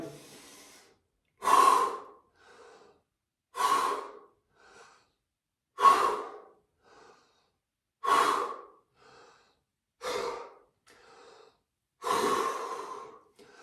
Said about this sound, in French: On refait la respiration, allez.